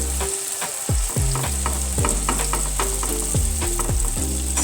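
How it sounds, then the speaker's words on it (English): Oil sizzles and crackles steadily in a pan of frying vegetable fritters while a utensil scrapes and taps now and then, close and continuous. "spoon a batch into the frying pan, just like that, and another batch."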